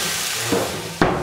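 Pork neck for Polish bigos sears in a hot pan with a steady, loud hiss and sizzle, broken by a couple of brief clattering knocks.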